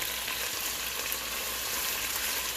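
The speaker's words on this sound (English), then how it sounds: "you can see my chicken is starting to simmer" Chicken pieces simmering in a one-pot Cajun chicken Alfredo, a steady close sizzle and bubbling with soft scraping from being stirred around the pot, no talking.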